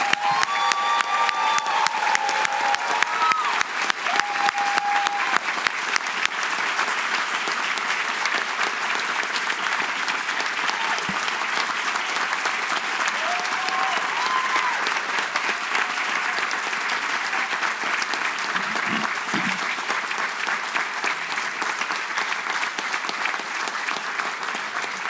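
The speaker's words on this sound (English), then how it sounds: "why doesn't everybody in the audience stand up and give the graduates a round of applause" A commencement ceremony audience gives the graduates a long standing ovation, sustained dense clapping with a few scattered cheers and whistles, continuing evenly throughout.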